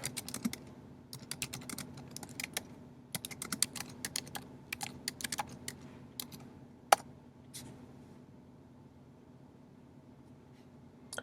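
A computer keyboard clatters as an Nmap version-scan command is typed, bursts of quick close key taps separated by short pauses, with one sharper louder keystroke near the end, no voices.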